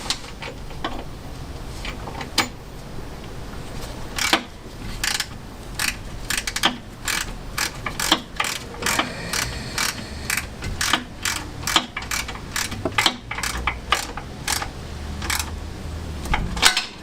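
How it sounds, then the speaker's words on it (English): A ratchet tightens bolts while the engine goes back into a classic Fiat 500, giving quick bursts of sharp clicking and long runs of rapid, close ratcheting clicks with brief pauses between strokes. "Ratchet."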